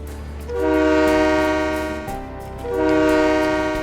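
A train horn in Train Mechanic Simulator 2017 sounds two loud, sustained chord blasts separated by a short gap, over the low rumble of the locomotive, with no one talking.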